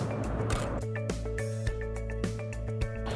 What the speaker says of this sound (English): So I'm gonna take a quick shot right now just to see how that looks.